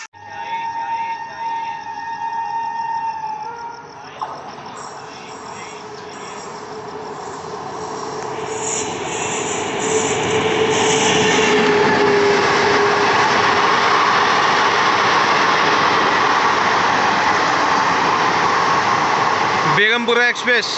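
Old ICF-coached Mussoorie Express rolling into Najibabad station, a steady rumbling train and rail noise building up and holding loud and close, with a voice talking over the start.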